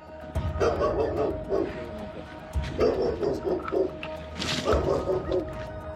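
A tied-up dog barks in a garden during a tense police operation, loud repeated bursts of barking and yipping in clusters, fairly close.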